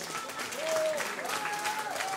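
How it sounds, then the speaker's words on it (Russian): A crowd at a fighting championship event applauds the fighters, moderate clapping spread through the arena, with a tonal musical or whistling line running over it. "аплодисменты бойцам!"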